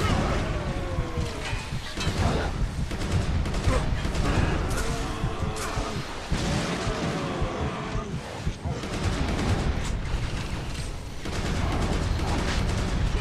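Gunfire and grenade blasts in the shooter video game Resistance 2, a dense, continuous barrage of shots and booming explosions with a voice talking over the combat.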